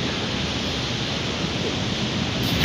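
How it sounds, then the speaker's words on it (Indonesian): Big ocean waves roll onto the beach at Pantai Penyu in Pariaman as a continuous, dense roar of surf, steady and fairly loud, with no voices. "Ombaknya besar-besar sekali"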